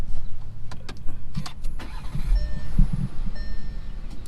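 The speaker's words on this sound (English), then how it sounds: "So let's start it up" The 3.8-litre V6 of a 2019 Volkswagen Atlas is started, with a short cranking chatter and a low, rumbling idle building under cabin clicks and faint chimes.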